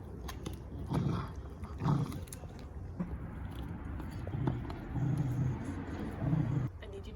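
A dog being trained to respond to a clicker growls low in bursts. The rumbles come close and fairly loud, broken by short pauses, with a little background noise.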